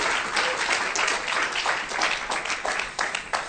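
A church congregation claps loudly at a worship service, a thick, continuous roar of applause that swells and ebbs slightly throughout.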